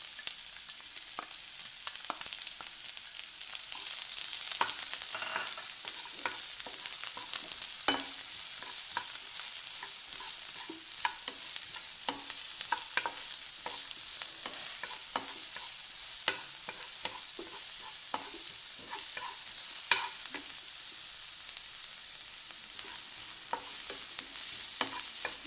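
Chopped red shallots sautéing in oil in a pan after mustard seeds have popped, a soft continuous sizzle with frequent light stirring clicks and scrapes, close and unhurried.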